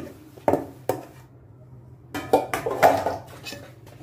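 Stainless steel and aluminum pots being handled while being cleaned, with sharp metallic clanks and knocks: two early hits, a pause, then a cluster of rattling clanks, close and alone without talk.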